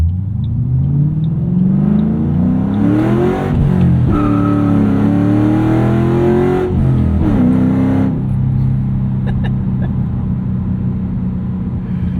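A loud 2007 Ford Mustang Shelby GT with a five-speed and loud exhaust pulls hard, its engine note climbing through rising revs, dipping at a shift, then rising again before settling into a steady, rumbling cruise.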